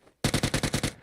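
A decoy grenade in the video game Warzone fires a burst of fake gunshots, about eight rapid, evenly spaced loud cracks in quick succession after a brief quiet, with no talk.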